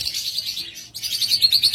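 A pair of pet birds, cockatiels or lovebirds of a local breed kept in a cage for sale, chirps in quick, bright bursts, close and fairly loud with a brief pause midway.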